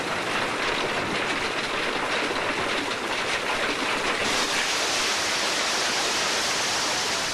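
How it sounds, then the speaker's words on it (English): Hailstones falling steadily as a storm builds with a possible tornado approaching, a dense, even hiss of ice pelting the ground that holds at a constant level throughout, with no voices. "Hail provides an early warning, and it's already beginning to fall."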